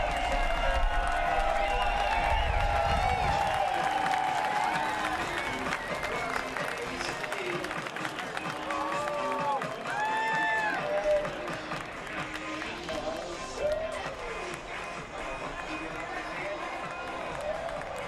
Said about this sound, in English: Sam Mayer as he gets out to celebrate in front of this sold-out crowd in Iowa